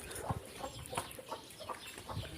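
Several chickens cluck in short, irregular bursts close by, soft and scattered over a quiet background.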